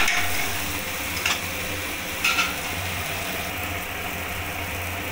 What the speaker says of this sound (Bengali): ক্যাপসিকাম আর পেঁয়াজটা ভালো করে ভাজা ভাজা হয়ে গেছে।